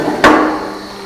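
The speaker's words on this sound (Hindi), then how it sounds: "उसके बाद ये हथौड़े की आपको जरूरत पड़ेगी।" A single sharp metallic hammer strike on a fly ash brick making machine rings out loud and close, then decays over about a second.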